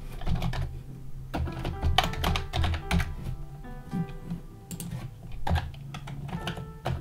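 Steady, fast clatter of keys on a computer keyboard as code is typed, loud and close, with dense irregular bursts of clicks and no voices.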